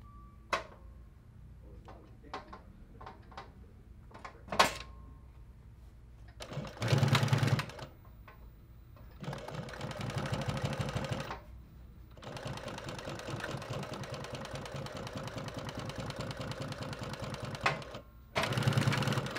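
A Juki PLC-2710 industrial post-bed sewing machine stitches in several separate runs, each a steady close mechanical whir lasting a few seconds, with short clicks and handling noises between runs and no talk.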